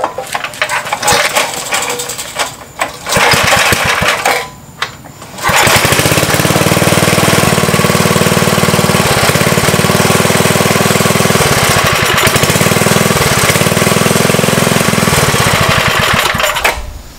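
Briggs & Stratton flathead engine on a patina tiller, cranked a few times before catching, then running loud and steady up close with a choppy, rattly idle.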